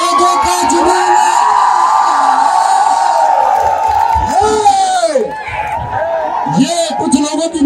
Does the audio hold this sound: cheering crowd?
yes